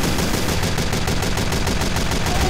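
Gunfire in the Team Fortress 2 game, a dense, loud burst of rapid-fire shots rattling continuously without pause for the full length.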